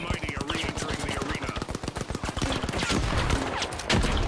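Rapid automatic turret gunfire in the video game THE FINALS, a dense run of sharp bursts mixed with other game sounds, with a voice talking faintly underneath.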